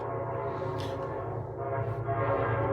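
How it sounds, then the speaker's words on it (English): An Amtrak passenger train rolls past nearby with a loud sustained horn blast over the rumble of the cars, heard alone without talk. "Of course, train's gonna go by."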